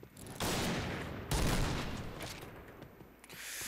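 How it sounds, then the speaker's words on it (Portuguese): Bursts of rapid gunfire crackle in the video game Point Blank, long sustained volleys with sharp onsets, harsh and noisy, mostly without talk. "Tem que ser uns 4 tiros pra quebrar o bagulho"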